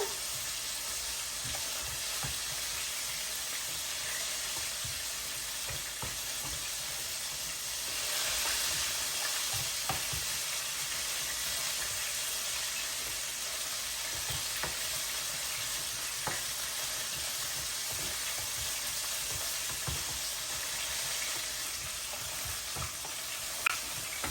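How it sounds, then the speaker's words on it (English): Wing sauce for sweet, juicy Super Bowl wings bubbles and sizzles in a pan as it is stirred, a continuous close hiss broken by occasional soft scrapes and taps over nearly half a minute. "Give it a nice stir"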